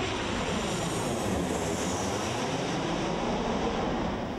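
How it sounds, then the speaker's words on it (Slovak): A landing airplane passing low overhead in Bratislava, a steady broad engine roar that stays loud and even from start to end, with no talking. "reálne sa pozerať na pristávajúce lietadlá, keď prejdú takto ponad teba"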